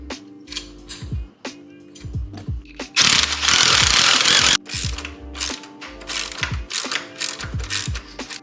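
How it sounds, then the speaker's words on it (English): A ratchet clicks as a nut is tightened onto a motorcycle crash cage on a 2022 Yamaha FZ07/MT07, with quick close ratcheting bursts, one loud rough spin in the middle, and clinks of metal parts. "Go ahead and install the nut."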